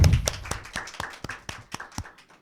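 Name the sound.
applause for a podcast guest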